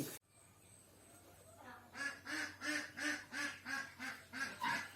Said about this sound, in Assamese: প্ৰায় ভিডিঅ'ত হাঁহ কুকুৰাৰ মাত শুনিব পাৰে